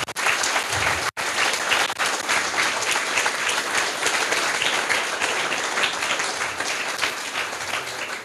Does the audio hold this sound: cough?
no